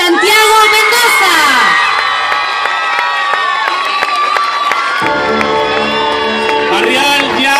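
A crowd cheers and shouts, with children's voices rising through the din, at the 2018 children's and youth queen election in Barrial, Gáldar. Loud, continuous celebratory noise fills the whole stretch, and steady tones run beneath it.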